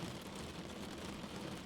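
Steady rain falling in a horror story soundscape, a dense, continuous hiss of drops on surfaces with no voices, even and unbroken throughout.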